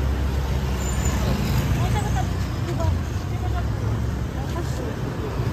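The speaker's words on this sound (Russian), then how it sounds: "тут и мопеды, и всякие байки, и вот этот как его автобус" Busy street intersection in Phuket with mopeds, motorbikes and a bus passing, a steady roar of close traffic noise with murmuring voices and babble mixed in throughout.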